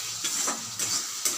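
Spices with a spoonful of Kashmiri chilli stirred in a frying pan: a steady sizzling hiss with a few soft scraping strokes of the spoon, close and fairly quiet, no voices.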